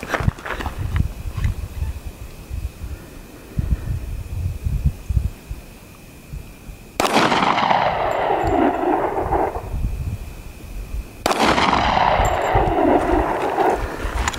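Two heavy gunshot blasts from someone shooting in the open desert, each a sharp boom with a long rolling echo, several seconds apart, after a stretch of low rumbling background.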